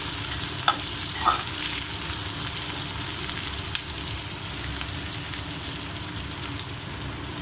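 Curry leaves and chopped onion frying in hot oil, a continuous close crackling sizzle with a couple of short sharp pops near the start.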